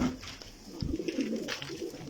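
Domestic pigeons kept in a loft coo in soft, repeated low calls at close range, with light rustling and a few faint clicks between them.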